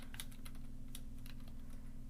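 Quick plastic key taps on a calculator as numbers are entered, about a dozen light, close clicks over a steady low hum.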